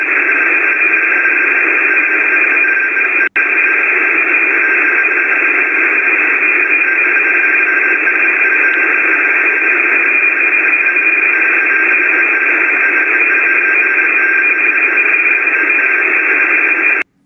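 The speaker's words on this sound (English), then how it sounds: "So what you're hearing is encrypted data," A continuous encrypted radio data stream, a bulletin for US nuclear forces, heard as a dense, unbroken band of buzzing, hissing digital noise with one tiny click partway through, loud and steady throughout.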